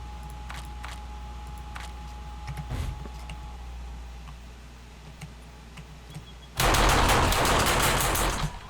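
An automated turret in the 7 Days To Die video game fires at the player, heard as faint ticking shots followed by a loud, dense burst of rapid gunfire near the end.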